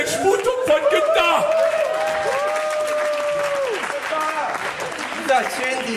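An audience at a football supporters' event applauds in a lively crowd, steady dense clapping mixed with cheers and whoops, with voices calling and talking over it throughout.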